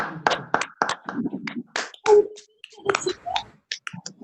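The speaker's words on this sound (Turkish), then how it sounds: "alkışlıyoruz seni" Clapping in an online children's celebration for the 100th anniversary of 23 April, a few sharp claps scattered among voices, close and uneven rather than a sustained round.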